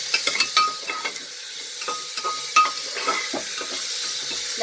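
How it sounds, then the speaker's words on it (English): Onions frying in hot oil for a vegetable tahari, crackling and sizzling steadily, while a utensil stirs and scrapes against the pan in frequent clinks. "Now I will add the onions. Let the onions get cooked."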